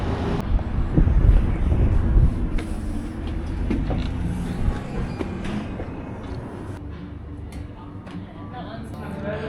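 A railway carriage on a long train ride rumbles with low, heavy rolling noise and intermittent creaks and knocks, loud and close at first then settling slightly quieter; no clear speech.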